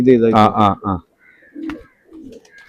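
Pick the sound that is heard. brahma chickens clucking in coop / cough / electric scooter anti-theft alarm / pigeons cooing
pigeons cooing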